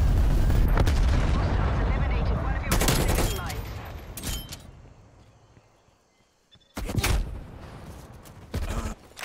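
A cruise missile strike in Call of Duty Cold War lands as heavy booming blasts and bursts of gunfire, loud and close, with quieter gaps between explosions and a voice talking over parts.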